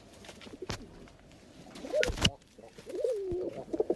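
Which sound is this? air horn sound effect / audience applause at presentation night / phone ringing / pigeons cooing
pigeons cooing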